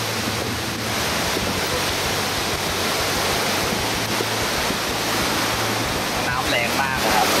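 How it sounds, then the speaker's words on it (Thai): A strong, fast river rushes nearby at Thong Pha Phum in Kanchanaburi, making a loud, continuous roar of churning water, with a voice faintly heard under it. "น้ำแรงมากครับใครมาเที่ยวต้องระวัง"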